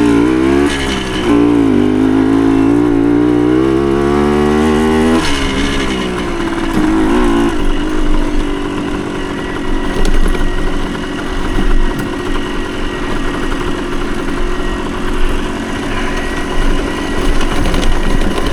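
A 1975 Suzuki TS125 Duster two-stroke trail bike on original tires, its engine revving up and down loudly at the start, then settling into a steady close droning run while being ridden along trails.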